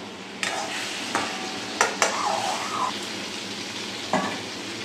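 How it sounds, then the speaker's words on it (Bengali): Prawns frying in a pan for a prawn capsicum curry hiss steadily up close while a utensil scrapes and stirs them in several distinct strokes. "চিংড়ি মাছ দিলে যে জলটুকু ওঠে সেই জলটুকুই আমি মেরে দিচ্ছি"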